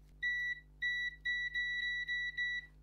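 A multimeter beeps in short, regular tones while testing the power switch of a VQ Retro Mini radio, roughly six clear pulses close to the microphone in a quiet room.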